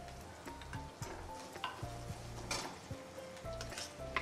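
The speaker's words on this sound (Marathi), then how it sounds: "लाल मिरची आणि मीठ त्यामध्ये परतून घ्यायची" Red chili and salt sautéing in a pan, soft sizzling under a run of clinks and scrapes from a utensil stirring against the pan, near and fairly quiet, no voices.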